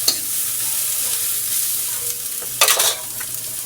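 Vegetables for chop suey with shrimp are sautéed in a pan, giving a steady close sizzle with bursts of stirring and scraping.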